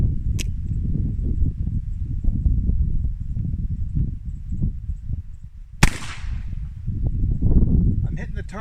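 An 1851 Navy revolver with an 1871 cartridge conversion fires a single sharp, loud report outdoors, followed by a short decaying echo, with a steady low wind rumble running throughout.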